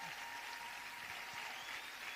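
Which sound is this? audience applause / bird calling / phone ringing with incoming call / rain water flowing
audience applause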